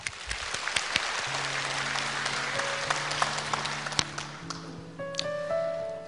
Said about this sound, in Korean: 우리 박수로 맞아주세요.